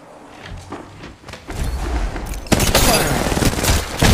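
Gunfire in Apex Legends Mobile while playing as Fade: bursts of rapid shots and thumps build to dense, loud sustained firing, with brief voice lines among them.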